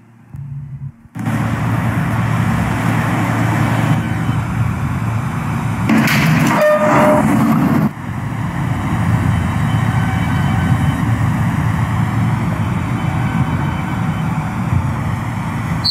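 An R160A subway train on the N line toward Astoria-Ditmars in Roblox, heard as a steady rumble that runs without a break. A brief louder burst comes partway through. No one speaks.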